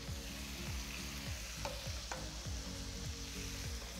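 Onions frying in a pan make a quiet, continuous sizzle with stirring, set against a low, rhythmically repeating hum in the background.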